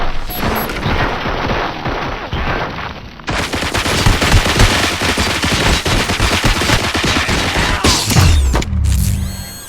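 Loud, dense bursts of automatic gunfire and explosions from the RoboCop Rogue City video game, with rapid machine-gun volleys and booming impacts running almost continuously, shifting to heavier blasts near the end.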